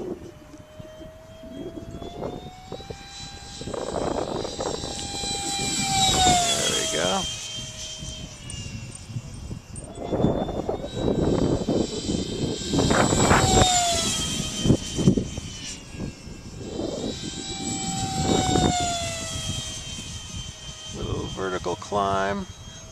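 An RC EF-16 model jet makes a full-throttle pass, its engine whine rising and falling in loud sweeps as it flies by, with people talking throughout.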